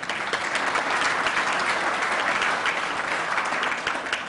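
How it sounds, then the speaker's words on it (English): Sustained applause fills the room at a photography awards gala dinner, a dense, steady clapping from a large crowd with no voices over it. "Big clap for yourselves"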